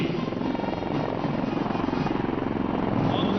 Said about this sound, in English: On the skyline, helicopters of 603 Independent Aviation Brigade are approaching the saluting lines.